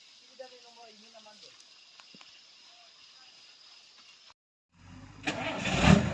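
A truck starts up and its engine roars and revs as it pulls a car stuck in mud with a rope; faint voices and quiet tones come first, then the engine fires after a brief gap and builds loud.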